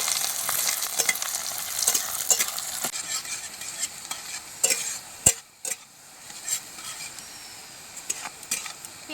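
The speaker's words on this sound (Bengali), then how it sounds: "পেঁয়াজটাকে ভালো করে ভেজে নেব।" Sliced onions fry and sizzle steadily in a hot pan while a spatula stirs them with intermittent wooden scrapes and taps, close up and without talking.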